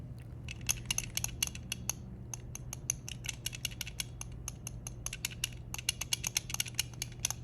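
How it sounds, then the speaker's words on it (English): Brass Boxy Pixel shell on a Super Nintendo controller, its L and R shoulder buttons clicked repeatedly in quick bursts, giving sharp, crisp, close clicks over a low steady hum. "the L and R buttons anyway. Here's some of the clickiness."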